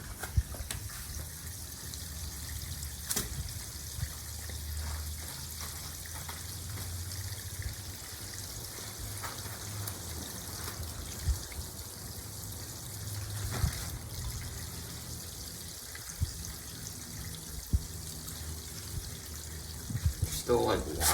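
Water runs and trickles steadily for a long stretch as an RV tank drains, a continuous draining gush with occasional clicks and faint voices in the background.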